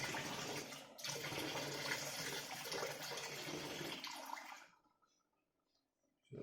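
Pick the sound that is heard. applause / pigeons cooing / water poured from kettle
water poured from kettle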